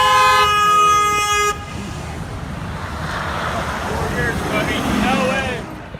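A car horn blasts one long, loud, close honk at a dance protest outside the White House, then cuts off, leaving crowd voices and outdoor rumble.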